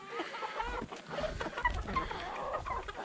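Hens cluck steadily, a rooster's lower calls mixed in among the flock, busy and close by with overlapping squawks throughout.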